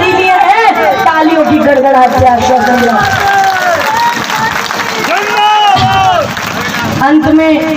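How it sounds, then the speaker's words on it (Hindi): Dense applause and clapping from a large crowd at a political rally in India, mixed with cheering and steady crowd murmur, loud and sustained throughout. "तालियों की गड़गड़ाहट से आश्वासन दिया"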